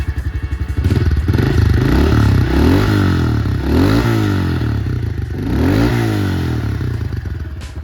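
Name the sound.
Honda CRF110 fuel-injected dirt bike engine revving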